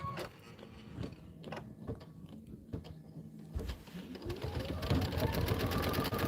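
An embroidery sewing machine stitches a tack-down line, its rapid mechanical patter running steadily and growing louder toward the end, close by; a person talks over parts of it.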